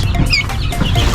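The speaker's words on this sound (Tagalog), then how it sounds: "Ito po, pakakawalan ko na itong pabo. Sisiw ng pabo, malalaki na po." Half-grown turkey chicks being let out on a poultry farm, a close cluster of soft clucks and short peeping calls over a rustling, busy background.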